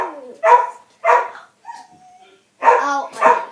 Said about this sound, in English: And now Ozzy's barking.